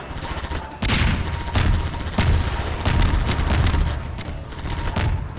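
Heavy automatic gun mounted on an airboat in Half-Life 2, firing loud rapid bursts that repeat in a steady rhythm, each a dense roaring rattle over an engine rumble.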